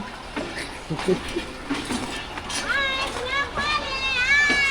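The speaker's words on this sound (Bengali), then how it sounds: "আমাদের ট্রেনটা চলে যাচ্ছে বাই বাই আমাদের ট্রেন বাই বাই" A passenger train on the Lahore to Karachi route pulls out of a station, its rolling rumble low and steady beneath close, lively children's voices and chatter.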